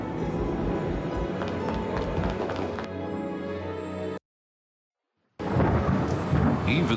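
A thunderstorm in the Harry Potter and the Prisoner of Azkaban video game: loud rolling thunder and heavy rain fill the scene. The sound drops out to silence briefly, then the storm returns strongly.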